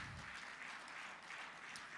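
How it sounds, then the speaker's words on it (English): Audience applause greets an archbishop being introduced at a ceremony, a faint, steady, distant wash of clapping that continues evenly throughout. "Please a round of applause for him."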